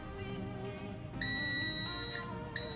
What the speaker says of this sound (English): if we test this with a multimeter, set this to continuity